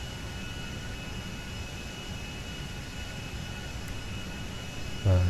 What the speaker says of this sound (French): je vais essayer de décoller sur la piste numéro 3